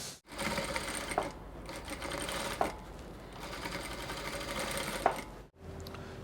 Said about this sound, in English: I'm going to top stitch the edges all around